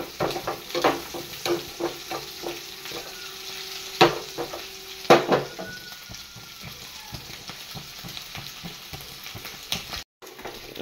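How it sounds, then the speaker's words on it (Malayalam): Prawns sizzle and crackle as they fry in a hot pan, with a steady hiss broken by sharp spatters and occasional scraping from stirring. "ചെമ്മീൻ അപ്പുറത്തെ കിടന്ന് ഫ്രൈ ആയിക്കൊണ്ടിരിക്കണ്ട"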